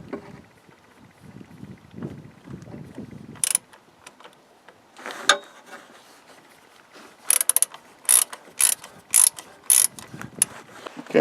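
A ratchet loosens the idler pulley bracket bolt on a Jeep Wrangler YJ, with quick bursts of clicking pawl strokes in short rhythmic groups, close and distinct, between shuffling and handling noises.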